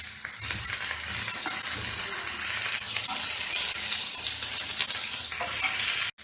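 Onions, ginger and garlic frying in a pan for dragon chicken make a loud, bright, continuous sizzle with faint stirring scrapes, heard up close and alone until an abrupt stop at the end.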